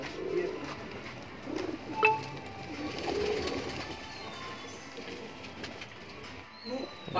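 Khaure pigeons in a loft, with soft cooing and faint bird calls over a steady background murmur, intermittent and moderately close, without speech.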